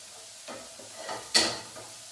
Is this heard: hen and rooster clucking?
no